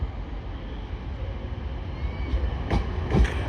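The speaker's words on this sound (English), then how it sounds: "Arriving in now is yet again another Transpennine Express 185, working a service from Manchester Piccadilly" A TransPennine Express Class 185 diesel unit, nearly empty, pulls into York on a terminating service from Manchester Piccadilly. A steady broad rumble and hiss carries throughout, with a few brief clunks near the end.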